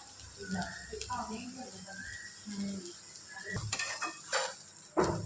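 Onions sautéing on a fairly high flame in a pan for a village-style egg curry, with a steady sizzle broken by intermittent stirring scrapes and clatters, while a voice talks over it.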